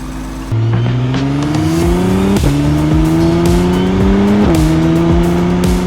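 A McLaren Artura's V6 biturbo hybrid engine accelerates hard and loud at full power in sport mode, its tone climbing through the gears with sharp shifts and a steady roar between them.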